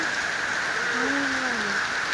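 Heavy rain falls as an even, loud hiss filling the air, with a faint wavering tonal call drifting through the middle.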